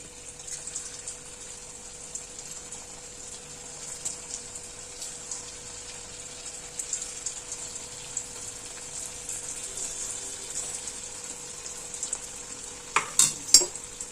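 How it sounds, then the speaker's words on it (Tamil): Cut potato pieces frying in hot oil for potato popcorn, giving a steady, fairly soft sizzle that holds throughout, with a few sharper clinks or stirs near the end. "இப்போ பொரிச்சு எடுத்துடலாம்."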